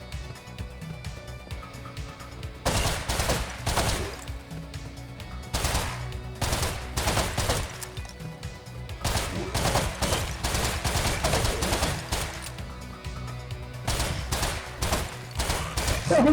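Gunfire from shooting zombies in the video game Zombuds: rapid bursts of automatic shots, loud and dense, repeating in clusters with brief gaps over continuous game noise.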